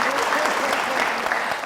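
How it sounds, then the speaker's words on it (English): Studio audience on the Family Feud Nigeria game show claps in a dense, steady burst of applause, loud and close throughout. "So round of applause for Obaz."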